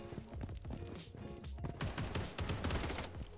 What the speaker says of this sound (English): Simon says, shoot the air.